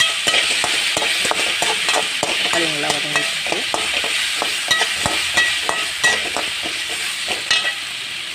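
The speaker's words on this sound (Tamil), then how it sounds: "தக்காளி நல்லா வதங்கிடுச்சு" Tomatoes with turmeric sautéing in a pan for cauliflower gravy, a constant sizzle broken by many quick spoon scrapes and taps against the pan, close up, with no talking.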